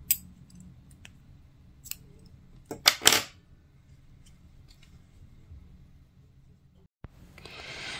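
Scissors snipping crochet yarn during a mosaic crochet blanket project: a few sharp, close clicks and a quick double snip against a quiet room, with light rustling at the end.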